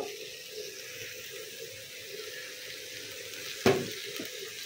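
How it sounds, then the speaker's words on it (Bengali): Chopped mutton with ginger and garlic sizzles softly in a pan, a low steady frying hiss, broken once by a sharp clack. "এগুলো এখন সিদ্ধ করে নেব, অর্থাৎ ভেজে নেব।"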